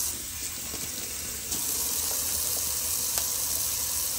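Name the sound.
cold water running from tap for razor rinse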